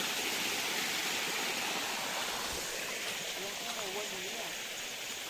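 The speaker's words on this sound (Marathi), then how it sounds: "बाऊकला धबधबा" Baukla waterfall in rural Maharashtra roars as a constant, dense rush of falling water, with a faint voice passing under it partway through.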